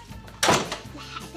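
A door opening in an Arabic TV drama: a single loud thud of the door being moved, followed by a brief scrape and quieter rattles.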